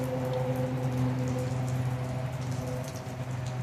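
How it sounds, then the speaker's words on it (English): Steady rain falling outdoors, a continuous even patter with a low droning hum running beneath it throughout, no voices present. "it's raining"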